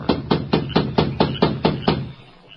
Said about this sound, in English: he rapped on the door